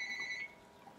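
A telephone rings faintly inside a pharmacy, one short electronic ringing tone lasting about half a second before cutting off into quiet room noise.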